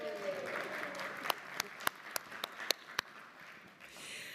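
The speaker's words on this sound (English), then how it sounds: "Now you can applaud." Applause from people gathered in a New York City Council chamber during a stated meeting, a steady patter of clapping with a few sharp, close claps standing out near the middle before it thins.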